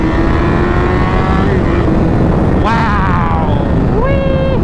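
1000cc motorcycle pulling hard in second gear, a loud close engine whine rising steadily in pitch, a brief shift blip near the middle, then climbing again, heavy wind rumble underneath throughout.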